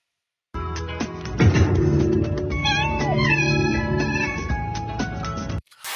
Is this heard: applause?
no